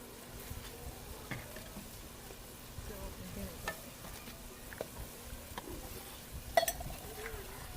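Pakoras fry in hot ghee, giving a faint, steady sizzle with scattered small pops and occasional stirring sounds, quiet and without talk.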